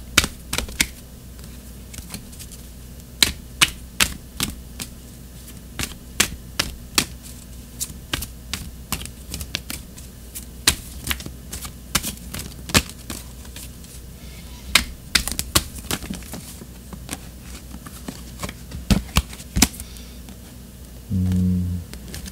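Oracle cards being shuffled and drawn during a tarot-style reading, a long run of close, crisp card flicks and taps that come in uneven bursts with short pauses, with no talking over them.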